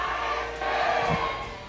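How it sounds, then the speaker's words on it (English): Fans of the Raiders esports team cheer and shout in a crowd after their Mobile Legends MPL SG Season 4 grand final win, a loud, dense roar that holds steady through the short stretch. "That's the cheer of the Raiders right there."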